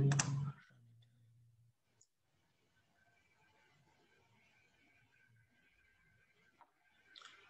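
Mouse clicks at a computer during work on a machine learning regression model, one sharp click at the start and a fainter one near the end, with quiet room tone between.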